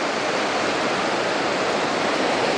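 Sea surf washing onto a sandy dune shore near Anapa on the Black Sea, a continuous loud broadband roar of breaking waves filling the whole stretch with no voices.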